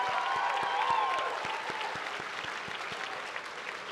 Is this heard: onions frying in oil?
no